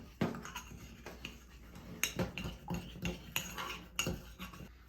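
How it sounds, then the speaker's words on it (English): A utensil scrapes and clinks against a container while stirring a thick cleaning paste for a front-loading washer's rubber gasket, with irregular close scraping strokes and taps throughout, no talking. "you're gonna mix up till you get that paste like this"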